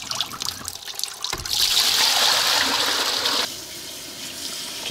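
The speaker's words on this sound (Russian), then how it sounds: "Я хочу ведро вытащить, воду слить и поставить" Water drains out of a bucket on the ice at a frozen-lake fishing camp, starting as a trickle and swelling into a steady pouring gush before easing to a quieter flow, close by with no talk.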